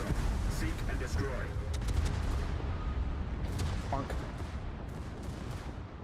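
Naval gunfire in World of Warships, a series of heavy booming shots and rumbling blasts over a continuous low battle roar, with a voice speaking briefly over it.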